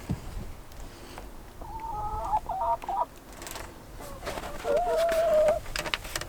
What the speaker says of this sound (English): I have chickens.